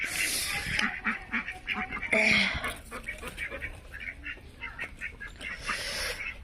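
Ducks that have flown in from a village pond honk and quack in short, scattered bursts on a cold, foggy rural day. The calls are moderately close, and a person talks underneath.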